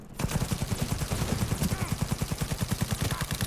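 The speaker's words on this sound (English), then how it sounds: "Can't dodge all of them, though, so just saturation fire." Rapid sustained automatic gunfire from the video game Cyberpunk 2077, a fast regular burst of loud shots firing continuously without pause.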